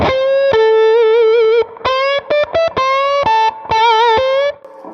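A distorted electric guitar plays a sustained, bending solo lick with choppy rhythmic stabs in the middle, loud and upfront with no other instruments.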